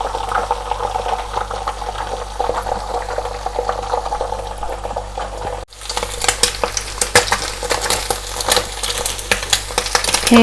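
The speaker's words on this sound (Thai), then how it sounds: "ใส่ไข่ลงไปเจียวเลยค่ะ" An egg is beaten and fried in a hot pan for a Thai glass noodle stir-fry. It crackles and sizzles up close, and a spatula scrapes and stirs through the oil, with a louder burst of sizzle partway through.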